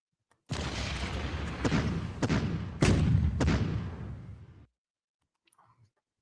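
Booming artillery fire from a World War II strategy video game set in the Ardennes offensive, a continuous rumbling barrage with several sharper loud blasts standing out, then cutting off into near silence.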